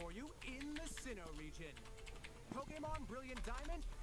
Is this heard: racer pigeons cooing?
no